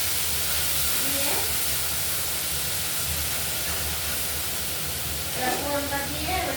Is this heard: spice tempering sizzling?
yes